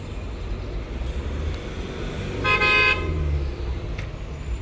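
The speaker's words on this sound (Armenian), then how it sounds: "Որ վարորդները չղայնացած մեքենա են վարում ու ազդանշան են տալիս։" Busy Yerevan street traffic with a steady car rumble, broken by one loud, sharp car horn blast lasting about half a second, plus a fainter toot later on.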